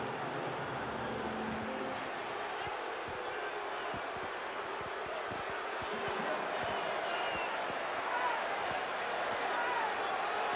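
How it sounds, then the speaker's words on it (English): Basketball arena crowd at a 1988 NBA game between the Detroit Pistons and Atlanta Hawks, a steady dense roar of cheering that stays loud throughout, with a few sharp thuds rising from the din. "the crowd goes crazy"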